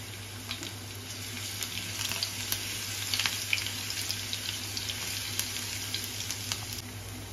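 Crushed garlic dropped into hot oil in a pan on a gas stove, sizzling and crackling with a steady frying hiss and scattered sharp pops, close and moderately loud, with no talk.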